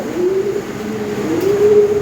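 Lahori Sirazi pigeons cooing nearby, two low throaty coos a moment apart over a steady background hum.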